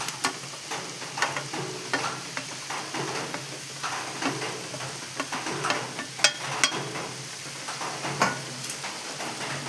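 Mushrooms frying over softened onions in a pan for a Kerala-style mushroom masala, steady sizzle punctuated by repeated scraping and clinking stirs, close and moderately loud, no speech.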